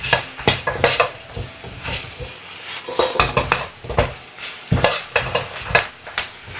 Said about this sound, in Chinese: 倒入豬蹄以後，再快速的翻炒幾下